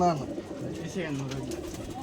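Pigeons cooing on an abandoned rooftop loft, soft low repeated coos running steadily through the clip with a voice talking alongside.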